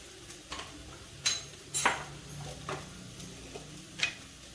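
Kashmiri chilli powder and turmeric frying in a pan, a low steady sizzle beneath scattered sharp clinks and scrapes of a spoon against metal, close and moderately quiet.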